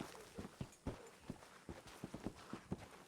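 Hooves of a horse in the Red Dead video game clop on hard ground in an uneven walking rhythm, a string of close, distinct thuds with no voices.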